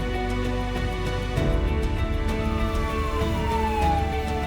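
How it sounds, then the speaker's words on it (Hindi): An ambulance siren, stuck in a traffic jam on Karachi's Malir Expressway, wails with a slowly falling tone over dense, rumbling traffic noise, moderately distant. "एम्बुलेंस वो कोने में फंसी हुई है, वो शोर करी"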